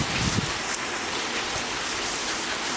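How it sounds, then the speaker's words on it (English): Heavy hail pours down in sheets during a windy storm, a dense, steady hiss of pelting ice with no gaps, loud and close throughout. "it is coming down in a big hailstorm right now"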